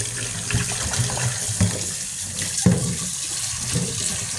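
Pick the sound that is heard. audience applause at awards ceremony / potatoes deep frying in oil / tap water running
tap water running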